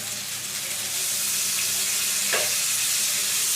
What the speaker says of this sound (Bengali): সামান্য একটু মশলাতে জল দিয়ে দিচ্ছি